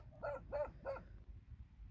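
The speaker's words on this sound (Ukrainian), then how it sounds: "А чого ти гавкаєш, друг?" A dog barks three times in quick succession at moderate distance during harvest season, followed by quiet background with no talking.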